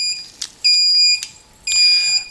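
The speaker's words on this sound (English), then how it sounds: "It's kind of in its fail-safe beep." Loud high-pitched electronic beeps in three bursts from a Tarot TL130H1 micro FPV race drone in fail-safe mode, each a steady tone held for a moment with short gaps between, no voices.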